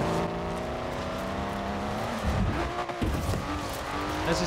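Race cars roaring through Forza Horizon 4 game audio, engines droning steadily with screeching tire squeal and skidding as the car slides, loud and continuous throughout.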